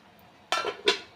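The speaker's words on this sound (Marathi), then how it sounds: "आपण झाकण काढून पाहूया" Lid lifted off a steaming pot of modak: two quick metallic clatters about a third of a second apart, close and fairly crisp over a quiet kitchen background.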